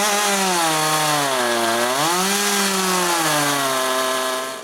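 A chainsaw engine roars steadily at close range, its pitch dipping and rising as the chain bites and eases through apple wood, continuous without pauses.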